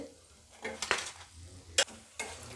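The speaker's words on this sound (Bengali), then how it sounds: "দেখুন কত সুন্দর ভাজা হচ্ছে" Savory nimki singara snacks frying in hot oil give a soft steady sizzle, broken by a few sharp clinks and scrapes of a utensil stirring in the pan, with no voices.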